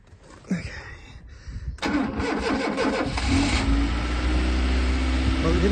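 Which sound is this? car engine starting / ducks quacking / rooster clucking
car engine starting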